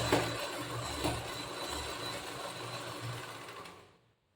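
A sewing machine runs continuously, stitching zigzag falls onto the edge of a sari, a steady close whirring drone with a couple of heavier thumps before it winds down and stops.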